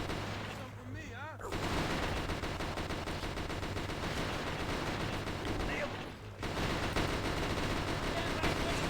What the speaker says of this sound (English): Crossfire going on!